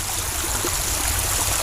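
Water of the Lamong river flowing in a steady, even rush with no pauses, moderately loud throughout.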